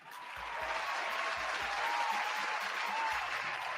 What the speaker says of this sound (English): those applause are for us, not anybody else.